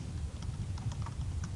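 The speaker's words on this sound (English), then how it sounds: "So you could just try typing in help sign," Typing on a computer keyboard while entering MATLAB commands, a steady run of soft key clicks that stays faint behind a low background hum.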